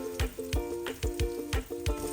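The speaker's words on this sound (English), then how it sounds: "while the burger is frying right here" A burger patty fries in a pan with a steady sizzle, broken by a regular run of soft knocks and scrapes about every third of a second, close and moderately loud.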